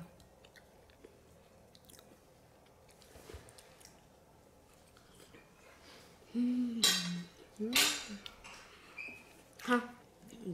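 Someone bites into and chews a candied sweet potato, with soft squishy, sticky mouth sounds and a few clinks of cutlery, faint under light background speech.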